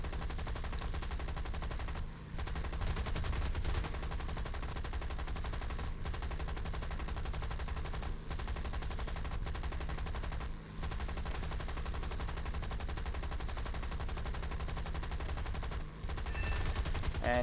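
Aircraft gunner's machine gun firing in the War Thunder video game, a steady dense rattle of rapid bursts running nearly continuously with a few brief gaps, loud and close over engine drone.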